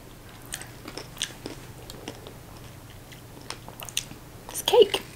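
Someone chews crunchy Christmas cake, giving scattered crisp crunches and bites close to the mic, growing louder near the end.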